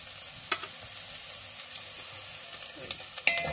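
Onion and dried mushrooms sautéing in a pan give a low, steady frying crackle, with a few sharper stirring clicks near the start and end and no talk.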